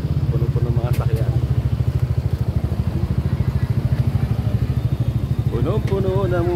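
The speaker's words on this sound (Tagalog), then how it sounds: "Puno-puno ng mga sasakyan." Dense traffic of motorcycles and cars crawling along a crowded one-way road, with a steady low engine rumble and idling throughout, close and continuous, plus a few brief tonal horn-like or voice sounds.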